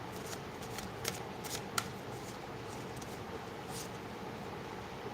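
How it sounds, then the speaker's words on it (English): Tarot cards are shuffled by hand in quiet, rapid bursts of riffling and flicking with a few sharper snaps, close and soft against low background noise, no talk. "I shuffled again, and the same card came out"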